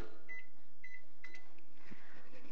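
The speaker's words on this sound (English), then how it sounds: "I'm going to throw it in the microwave for, I'm going to try 20 seconds to start." A microwave oven runs with a low hum while a few short electronic beeps chirp near the start, followed by a brief clunk of handling.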